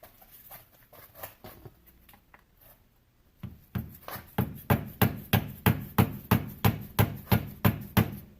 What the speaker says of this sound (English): You can take a flathead screwdriver, an old flathead screwdriver, a chisel or something, get in behind there, and you're going to have to slowly get that out